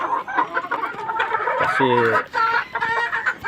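Chickens being fed cluck busily close by in a rapid, uneven chatter, with a louder squawk near the middle; someone speaks briefly over them.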